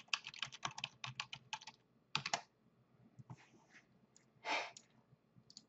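Quick, close keystrokes on a computer keyboard type out a name in short clusters, with pauses and a couple of soft breaths between bursts.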